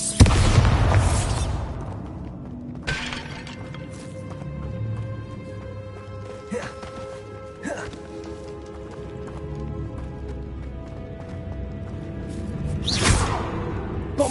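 A Bombarda spell blast in Hogwarts Legacy, a heavy boom at the start followed by rumbling debris, scattered whooshes and further sharp impacts amid a game soundscape.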